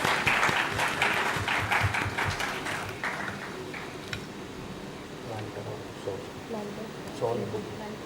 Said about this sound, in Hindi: एक बार जोरदार तालियों से हमारे सभी डिग्निटरीज का स्वागत है।